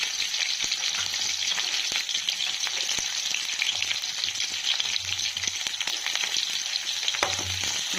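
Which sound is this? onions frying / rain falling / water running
onions frying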